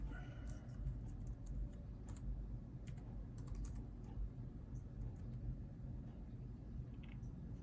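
Steady keyboard typing on a PowerPC Mac running Mac OS X 10.4, close and fairly quiet, with quick irregular key clicks over a low continuous hum.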